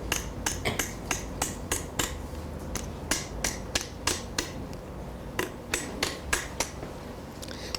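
Hammer strikes metal sheet being shell-formed into a V-shaped stake, a rapid series of sharp, ringing taps in uneven bursts, close and crisp over a low steady background, with no talking.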